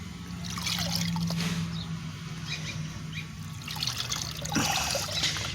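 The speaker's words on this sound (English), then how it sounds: "I want to see what happens when I submerge the air filter" An air filter is submerged in a bucket of water, giving a soft, continuous trickling and gurgling at low volume throughout, with a faint hum underneath.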